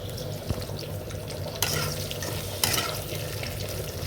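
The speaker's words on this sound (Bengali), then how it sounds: "পেস্টটি আমি হালকা ভাজা দেব" Masala paste for chicken sheek kebab sizzles steadily in a pan, a continuous close frying hiss with a few sharp stirring clicks and no talking.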